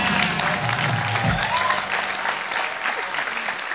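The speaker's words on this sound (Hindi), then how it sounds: "जोरदार तालियां" Loud, dense audience applause at a Holi special comedy show, sustained clapping filling the whole stretch with a brief low thump early on.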